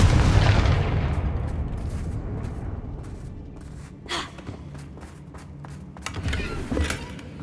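Confringo blasting spell explosions in the video game Hogwarts Legacy: a heavy opening boom that fades out, followed by several sharper crackling bursts spaced across the rest of the clip, loud and with no voices.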